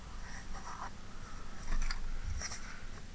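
A pen scratches short marks across the back of a jigsaw puzzle piece, a few brief scribbly strokes close by over quiet room hiss.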